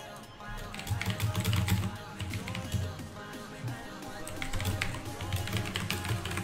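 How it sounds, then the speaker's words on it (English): Rapid clicking of a computer keyboard as someone types a chat message while queued in a Dota 2 qualifier lobby, steady keystrokes running beneath continuous talk. "I'm just typing out on chat, letting folks know that we're in the lobby."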